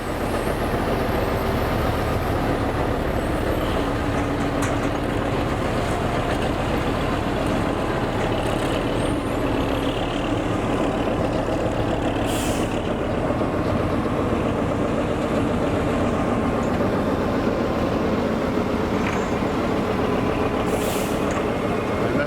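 A heavy truck loaded with about 20 tonnes rumbles steadily at close range, a constant low drone with occasional hissing bursts, like air brakes.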